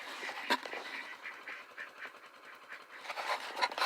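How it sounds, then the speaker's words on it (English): Ducks quacking faintly at a distance on a farm, a few scattered calls over a soft steady background hiss, with no one talking. "check on the ducks here."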